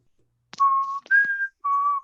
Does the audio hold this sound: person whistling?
yes